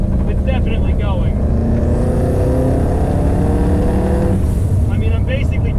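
A WRX-swapped Subaru Impreza 2.5RS turbo engine pulls hard, its loud, close engine drone rising as boost builds, with a turbo whine riding above it and a voice talking over the engine.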